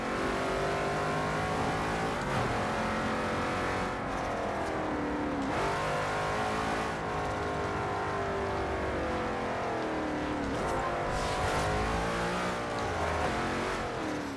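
A twin-turbo Ford GT with a mid-mounted 5.4-litre V8 drifting in Forza Horizon 2, its engine droning loud and continuous while revs rise and fall in repeated sweeps.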